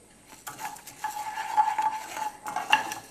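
Spices and turmeric stirred in a pan, close scraping and clinking of a utensil against the metal in short bursts over a soft sizzle, with no voices.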